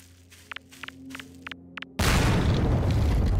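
A grenade explodes in a Skibidi Toilet animation: a few light footsteps and taps give way to a sudden loud blast that becomes a sustained, roaring wash of noise.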